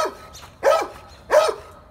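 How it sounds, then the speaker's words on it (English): A dog barks twice outdoors, two loud, close, sharp barks about half a second apart, with quiet gaps around them and no speech. "We got a mad dog over there."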